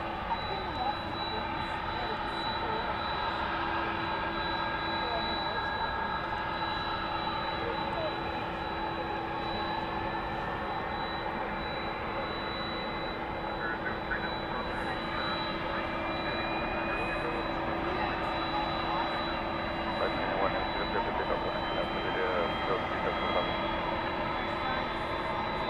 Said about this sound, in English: we should be seeing Qantas Flight 8 going to Sydney